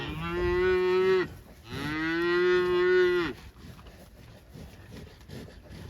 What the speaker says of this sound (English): all the cows are right here surrounding me